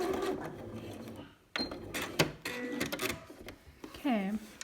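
Short burst of a sewing machine sewing a back stitch to join two lines while fitting a hidden zip, heard between and under close speech.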